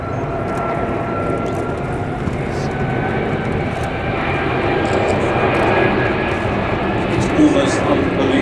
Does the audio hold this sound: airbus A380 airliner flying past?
yes